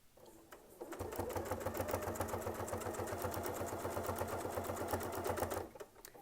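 A sewing machine runs steadily for about five seconds while stitching a quilt border along a Westalee ruler, with a fast, even needle rhythm that starts abruptly and stops near the end, close and clear with no talk.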